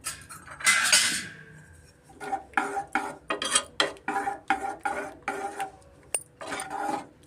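Soaked moong dal (split green gram) being mashed in a pot: a run of repeated metallic scraping and clacking strokes in a steady rhythm, close and fairly loud, with no talk.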